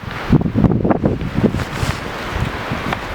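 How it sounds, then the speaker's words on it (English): Blizzard wind gusting across a winter campsite, buffeting the microphone in rough, uneven bursts with a rustling roar, close and fairly loud. "Hopefully the wind dies down."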